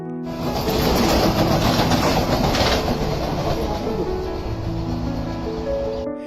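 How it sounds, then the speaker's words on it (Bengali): An air-conditioned local train running from Ranaghat via Bangaon to Sealdah in West Bengal gives a loud, continuous rumble with rising and falling tonal hums and rail clatter, close by for the whole stretch. "শুক্রবার রানাঘাট থেকে বনগা হয়ে শিয়ালদহের উদ্দেশ্যে রওনা দেয় এসি লোকাল ট্রেন"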